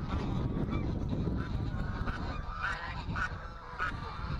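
Several geese honk intermittently over strong wind noise on a farm in the morning, the calls moderately close and overlapping in short bursts.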